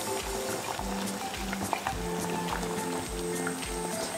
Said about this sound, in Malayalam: നമ്മുടെ തക്കാളി നല്ല രീതിയിൽ തിളച്ചിട്ടുണ്ട്